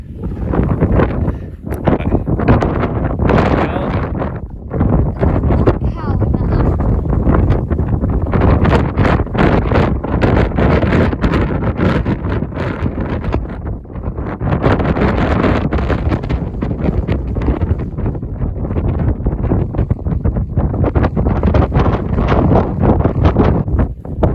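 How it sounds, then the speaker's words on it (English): Strong gusty wind roars and buffets loudly and continuously on the hilltop of Mount Famine, with brief lulls between blasts. "it's pretty windy here now"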